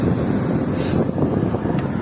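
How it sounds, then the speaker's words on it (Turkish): Strong wind roaring across the microphone while cycling downhill on a road on a bicycle tour of Turkey in stormy weather, a loud continuous low rumble with brief gusty swells and no voices. "Çok fazla rüzgar var."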